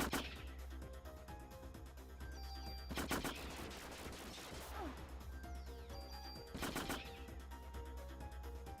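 Video game gunfire in Parasite Eve, aimed at a squirrel: two loud bursts of shots around three and seven seconds, set over a steady game music and ambient bed.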